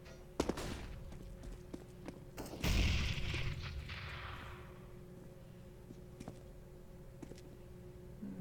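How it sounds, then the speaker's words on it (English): Flashbang grenade in a shooter video game: a sudden loud burst followed by a bright ringing hiss that fades over a couple of seconds, among scattered faint gunshots and game clicks. "Throwing flashbang."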